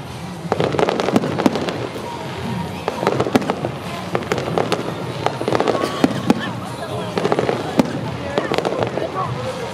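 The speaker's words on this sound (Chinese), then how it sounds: "咱这烟火秀经过申请消防队来核准的哦" Aerial fireworks show at a temple festival in Guanmiao, with repeated booming bursts and crackles exploding in quick succession, loud and sustained, while crowd voices murmur underneath.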